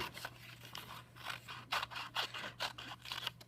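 Quiet, repeated snipping of scissors cutting through paper, a steady series of short crisp cuts close by over a faint hum.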